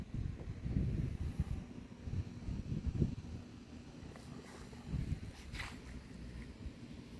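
Steady wind rumbles and buffets outdoors, loud low gusts swelling and easing throughout with no talking.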